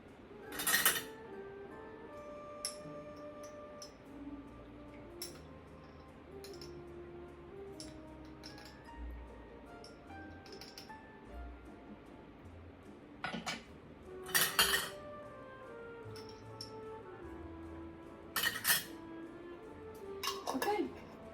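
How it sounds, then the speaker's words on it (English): A teaspoon measures yeast for whole wheat bread dough, giving several sharp metallic clinks and taps scattered over a quiet background, with a few louder clusters of chinks spaced seconds apart. "I'm going to put in 4 1/2 teaspoons of my yeast"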